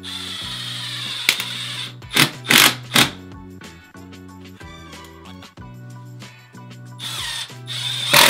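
A small power drill boring screw holes in a plastic toilet flange extension, with bursts of high whirring as the bit bites, brief pauses between runs and a steady motor drone, close up and without talk.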